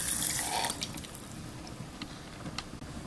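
Water pours into the pot of an Oster Digital Perfect Cooker over rice, oil and onions, a short splashing rush at the start that fades into quieter trickles and small kitchen clinks.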